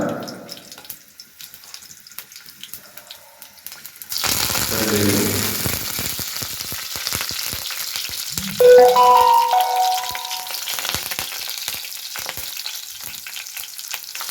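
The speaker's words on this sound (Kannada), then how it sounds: "ಸಾಸಿವೆ ಚಟಪಟ ಸಿಡಿದ ನಂತರ ಸೇರಿಸಿಕೊಳ್ಳಬೇಕು" Mustard seeds spluttering and popping in hot oil for a Karnataka-style potato palya, starting suddenly after a quiet lead-in, then a steady close crackling sizzle with sharp pops and a few clinks of a spoon against the pan.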